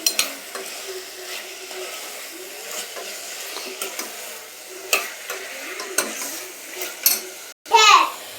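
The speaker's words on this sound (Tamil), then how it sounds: "கல்லுப்பு போட்டுட்டு காளான் நல்லா வதக்கி எடுத்துக்கலாம்." Mushrooms sautéing in a pan with rock salt, giving a soft steady sizzle with scattered scraping stirs and a louder clatter near the end.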